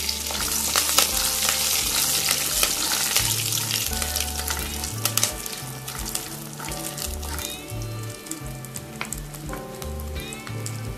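Curry leaves frying in hot oil for lemon rice give a loud, continuous sizzle full of sharp crackles and pops that stays close and unbroken throughout, with no voices.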